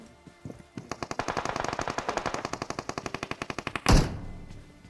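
An Uzi submachine gun fires in a mobile battle royale game as a rapid, steady stream of close, loud shots lasting about three seconds. A single heavier boom follows, then fades.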